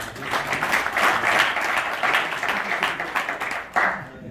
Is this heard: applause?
yes